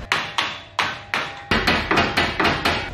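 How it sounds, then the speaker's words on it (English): A hammer knocks a roll pan panel into place on a vehicle, about ten sharp close blows in an uneven rhythm, louder and quicker toward the end, with no talking. "you're gonna wanna use a hammer to kind of knock it right into place"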